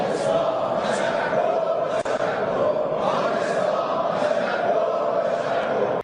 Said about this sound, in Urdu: کیسے ایران نے اپنی پارلیمنٹ میں تشکر پاکستان کے نعرے بھی لگائے